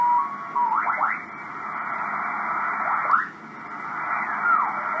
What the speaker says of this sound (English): that sounds sort of like multiple frequency shift keying, but faster